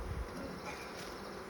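Honey bees buzz steadily around an open hive during an inspection, a close, dense, continuous drone with no talk over it.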